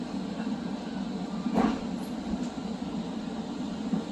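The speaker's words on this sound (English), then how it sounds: "The Bombardier multi-level is going to stop" A Bombardier multi-level commuter train arrives at a station in Point Saint Charles, a steady low rumble of rolling coaches with a brief louder clank midway as it slows to a stop.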